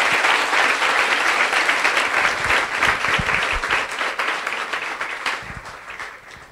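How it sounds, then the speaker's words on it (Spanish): A church congregation claps loudly and continuously in a thick, sustained roar of applause that eases slightly toward the end. "¿Cuántos pueden dar un aplauso fuerte al Señor?"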